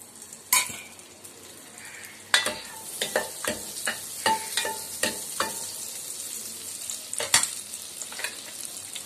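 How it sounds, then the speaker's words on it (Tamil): Spices tempering in hot oil in a pan on the stove, a continuous sizzle broken by a string of sharp clicks and scrapes of a stirring spoon against the metal, close and fairly quiet, no voices. "இப்போ டக்குன்னு தாளித்து விட்டுறலாம் அப்படியே."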